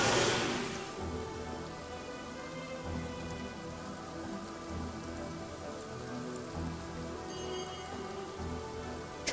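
Steady rain in Divinity: Original Sin, a dense even hiss of drops on surfaces across the whole scene, with a low rumble under it and faint faraway tones, and no voices.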